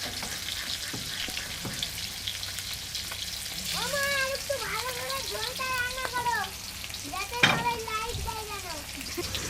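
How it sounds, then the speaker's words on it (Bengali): Rohu fish fries in a pan with a steady sizzle, while nearby people talk over it in a kitchen. "মাছ ভাজা হতে হতে এই লঙ্কাগুলো বেটে নেবে।"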